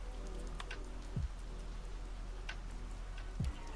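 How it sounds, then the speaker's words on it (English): Steady rain pattering on a surface, a continuous even wash of drops playing as an ambient sound effect on a live stream, with a couple of brief low swooping tones rising out of it. "I have those rain sounds on my stream and I can actually hear those sounds."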